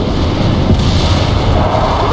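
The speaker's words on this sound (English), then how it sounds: "Romanov, call in artillery and airstrikes on them." Continuous dense rumble of artillery fire and airstrike explosions in the battle game World in Conflict, loud and unbroken booms blending into a heavy roar throughout.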